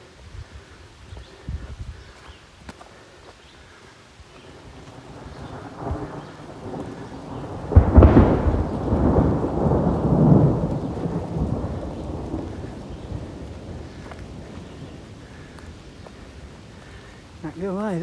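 Thunder rumbles and rolls through a thunderstorm on the Appalachian Trail near Erwin, Tennessee, a deep crack building into a long swelling roar over steady rain on leaves, with faint voices nearby.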